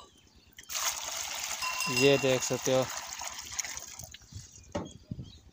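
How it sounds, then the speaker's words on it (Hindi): Water gushes and splashes as it is poured out for a buffalo to drink on a dairy farm, a rushing stream for a few seconds with a person talking over it. "भैंस को हम पानी दे रहे हैं।"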